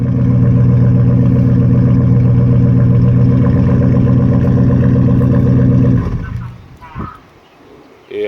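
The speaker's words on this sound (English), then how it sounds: "Love to hear that Chevy 350 sound." A Chevy Tahoe with a 5.7 Vortec 350 V8 and loud pipes idles with a deep, steady, loud rumble for about six seconds, then shuts off.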